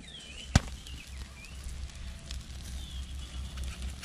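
Snails grilling over a charcoal fire pop once sharply and loudly near the start, then a steady low crackle and hiss continues, with faint bird-like chirps in the background.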